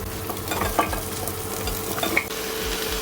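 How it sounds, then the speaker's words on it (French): Vegetables for a pumpkin soup stirred in hot oil in a pot, a steady sizzle with scraping spoon strokes and occasional clinks, close and continuous without talk. "Ça commence à dorer. Je vais bien mélanger tous les légumes."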